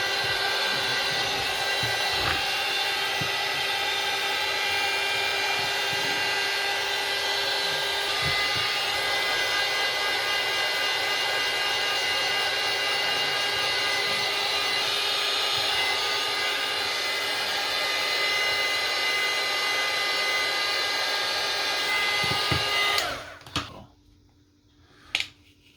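A heat gun blows hot air onto a Samsung A12 phone screen to loosen it, a loud, steady close-up whoosh running continuously for over twenty seconds before abruptly cutting off, followed by a couple of faint clicks.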